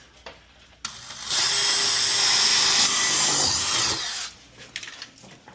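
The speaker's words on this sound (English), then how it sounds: "I think I want to mark it and drill it out here" A power drill bores bolt holes while installing an ASI Accurate single toilet stall partition; a loud, steady whirring burst of about three seconds, up close, with quiet handling noises before and after.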